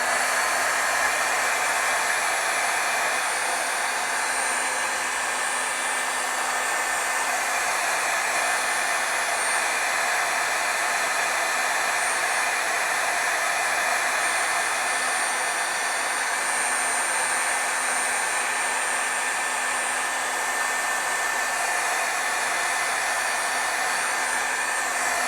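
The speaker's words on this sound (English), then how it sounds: "otherwise you get some of that, dry air kind of blowing onto it," A heat tool blows hot air continuously to dry stamping ink, a steady whooshing drone with a faint tonal whine that holds constant and fairly loud throughout, with no talking.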